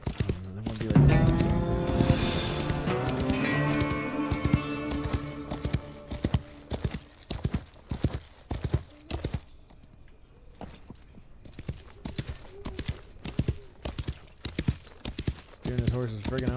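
Horse hooves in the Wild West Online video game, a steady rhythmic clip-clop of a ridden horse, with a whinny near the start and someone talking over it.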